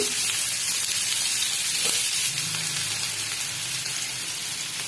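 Onion sizzles loudly in hot oil in a pan for restaurant-style tikka gravy, a continuous bright hiss close by, steady throughout with faint low clatter in the background.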